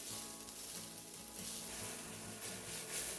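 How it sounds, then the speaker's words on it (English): Garlic fries in a pan while tofu is braised, a steady soft sizzle with faint crackles, close but quiet and alone. "add in the garlic and cook them until lightly caramelized"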